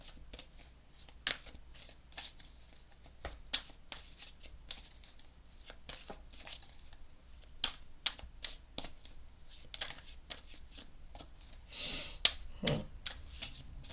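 Tarot advice cards being shuffled, with rapid papery riffles and taps in steady bursts, close up and fairly quiet.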